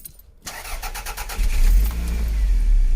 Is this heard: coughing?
no